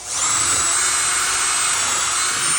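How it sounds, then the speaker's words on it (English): A cordless drill fitted with a countersink bit bores a hole for building storage bins, a loud steady high whine running unbroken and close throughout. "I've got a drill bit on my cordless drill here. It's got a countersink bit on it."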